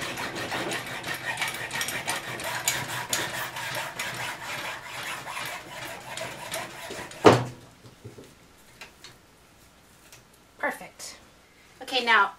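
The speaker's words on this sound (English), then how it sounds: "I'll grab the hacksaw, and I'm just going to follow the contour here and just hack this little scrub brush part off" A hacksaw rasps back and forth through the plastic and bristle head of a round scrub brush, steady repeated strokes for several seconds, then stopping, followed by a few scattered handling knocks.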